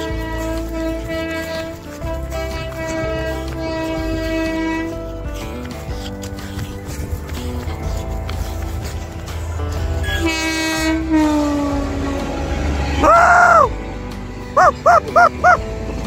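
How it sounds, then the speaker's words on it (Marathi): A train passing on a Konkan railway line at dusk, a loud rolling clatter of wagons with a long sustained horn blast, then several short horn toots near the end; a dog and faint voices in the background. "ट्रेन येते."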